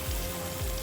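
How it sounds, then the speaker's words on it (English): Food frying in a pan until the edges crisp, a steady close sizzle and crackle filling the short moment with no one talking. "I'm just gonna keep frying them until they're like"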